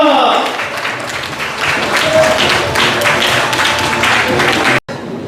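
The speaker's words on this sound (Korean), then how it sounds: "박수 한번 부탁드리겠습니다." An audience at the inauguration ceremony of Cho Bae-sook as People Power Party North Jeolla provincial chapter chair claps loudly in a crowded hall, with voices mixed in, before the sound cuts off abruptly near the end.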